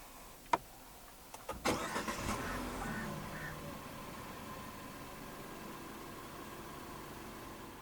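A couple of clicks, then the engine of a 2019 Citroën Grand C4 SpaceTourer THP cranks by push button and catches, settling into a steady, quiet idle that hums on to the end.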